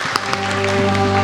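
Church congregation applauding during an all-generations children's Sunday worship service, steady clapping holding through the short moment, fairly loud and close, with a sustained musical tone underneath.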